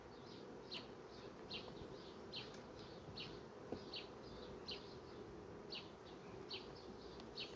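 Honey bees buzz around a beehive after a colony merge, forming a steady, dense hum close by, with recurring brief higher chirps or calls over it and no voices.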